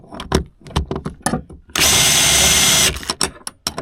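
A power drill whirs loudly for about a second during a tour bus conversion build, preceded and followed by knocks and clattering tool handling nearby.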